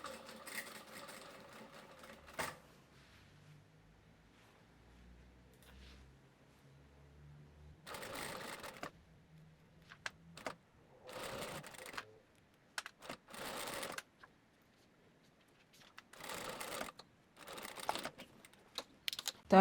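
A home sewing machine stitches the hem of a dress in short, separate bursts, with a longer run at the start and then several quick rattling spurts amid quiet pauses and small handling sounds.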